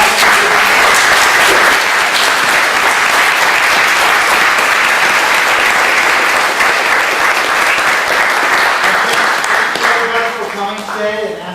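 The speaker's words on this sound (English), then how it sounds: "let's give a round of applause." A live audience at a funk music symposium panel claps steadily and loudly for about ten seconds, the applause thinning and fading near the end.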